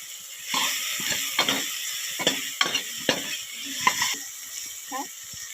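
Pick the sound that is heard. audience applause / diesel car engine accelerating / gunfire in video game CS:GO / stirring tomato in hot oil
stirring tomato in hot oil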